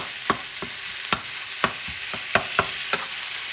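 Close to a pound of ground meat for Puerto Rican carne molida sizzles steadily in a pan while a utensil scrapes through it in about seven sharp, irregular strokes.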